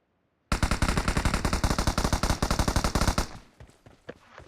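Rapid automatic gunfire in PUBG, a dense, loud, even burst of shots lasting about three seconds before trailing off into a few scattered fainter pops.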